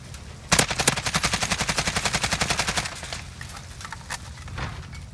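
Rapid AK-47 assault rifle burst in a first-person shooter game, a loud close string of about twenty evenly spaced shots lasting two seconds, then scattered quieter single shots and game effects.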